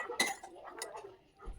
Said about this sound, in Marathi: आता आपण गॅस बंद करून एका बाउलमध्ये आपण ते काढून घेऊया साईडला